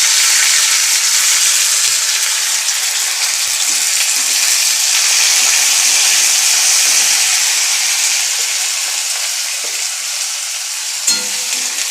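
Black cumin, tomato and onion frying together in hot oil in a pan, a loud steady sizzle and hiss that holds throughout, with a brief clink of a utensil near the end.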